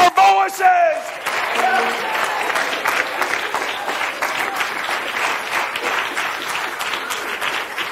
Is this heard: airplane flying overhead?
no